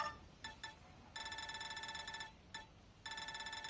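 A phone rings in the Street Fighter 6 video game, in loud repeated bursts of bright electronic trilling separated by short gaps, with no voices over it.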